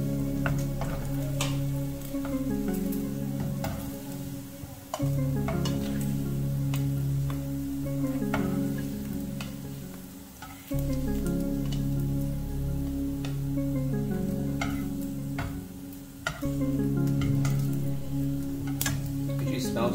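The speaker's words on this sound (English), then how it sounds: "So this is how you pan fry the luncheon meat." Luncheon meat slices pan frying in a skillet, a steady crackling sizzle that runs throughout with brief dips and the occasional scrape or stir, close and moderately loud, with no one talking.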